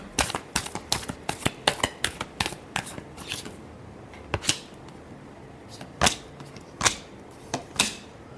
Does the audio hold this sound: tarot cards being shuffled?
yes